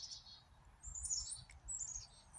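Birds at a feeder squawk and screech in a few harsh bursts, fairly close, over a low rumbling background with no voices.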